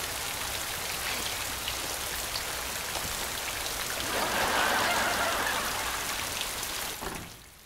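Heavy rain and wind pour down in a steady, dense hiss, swelling briefly in the middle before fading away at the end, with no voices.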